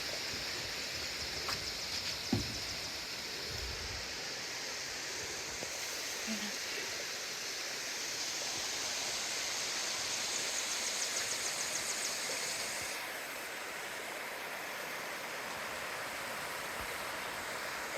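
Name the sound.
hot spring waterfall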